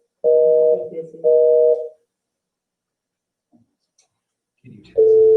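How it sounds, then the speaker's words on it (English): A telephone busy signal: two loud, evenly spaced tone bursts, a quiet pause with a couple of faint clicks, then another burst starting. "They'll be busy."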